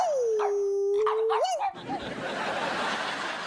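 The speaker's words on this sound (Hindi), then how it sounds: "कुत्ता है ना ये भी।" A dog howls in a long wavering tone in a comedy scene, breaks into short yelps, then gives way to a dense, noisy scuffle, all loud and close.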